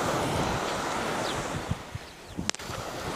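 Sea surf washes foam onto a sandy beach as a soft, continuous hiss with a few small low thumps near the end. No one speaks.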